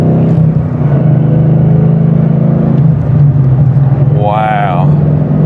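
A 2013 Mustang GT with an MT82 manual gearbox revs to about 5,000 RPM in second gear, a loud sustained engine roar with a rising whine near the end, close by with someone speaking.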